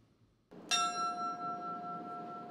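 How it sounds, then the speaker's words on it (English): A single memorial bell at a 9/11 ceremony on the Jersey City waterfront strikes once with a bright clang, its ringing overtones sustaining clearly over steady outdoor background noise. "The bell tolled 37 times during the Memorial Day ceremony on Jersey City's waterfront"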